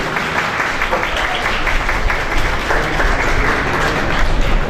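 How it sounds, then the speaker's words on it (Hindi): Vigorous, continuous applause from a crowd at an annual function, a thick, close roar of clapping with a low rumble underneath and some voices mixed in. "जोरदार तालियां होनी चाहिए"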